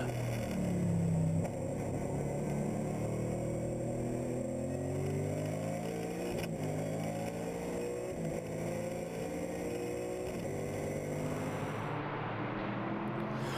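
Race cars circle the Zolder circuit during a 2014 Belgian championship round, a BMW M3 GTR V8 among them, their engines a continuous loud drone whose pitch climbs and falls through gear changes before a sudden cut near the end.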